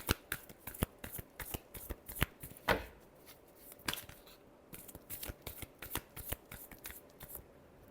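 Tarot cards being shuffled by hand, a steady run of quick, crisp flicks and riffles for about eight seconds, soft and close, with no voice.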